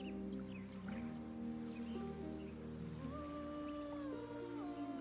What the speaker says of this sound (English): A sweet melody plays above the waves, beckoning you, drowning out all logical thought